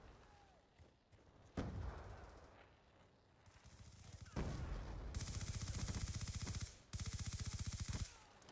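Automatic gunfire in Black Ops 2, with a heavy shot early on and then sustained, rapid machine-gun bursts at close range, briefly broken by a pause.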